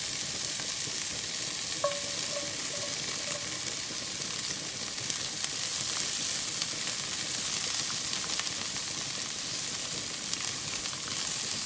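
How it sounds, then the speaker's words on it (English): Broccolini frying in a pan while garlic cooks nearby, a steady broadband sizzle running throughout with a few faint clinks of stirring, no talking. "So I'm going to go ahead and get the broccolini in there."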